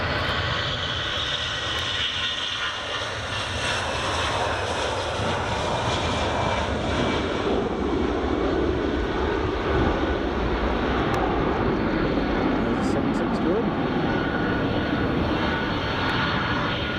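EasyJet airliner taxiing at Edinburgh Airport on runway 24, a steady, continuous jet engine roar with a broad rumble that holds evenly loud and fairly near for the whole stretch, without voices.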